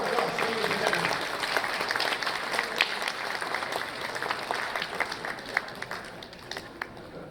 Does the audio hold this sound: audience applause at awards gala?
yes